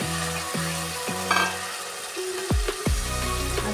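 Potatoes sautéing in a hot pan for a street-style veg frankie filling, a steady sizzle with a few clanking stirs of a spoon against the pan, no talking.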